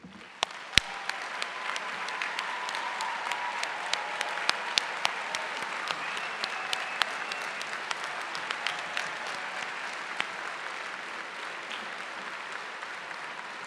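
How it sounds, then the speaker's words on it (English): Sustained applause from a high school graduation audience honoring military family members and veterans, a steady dense patter of many clapping hands throughout with no voices over it. "Please stand so that we can applaud your service to our country."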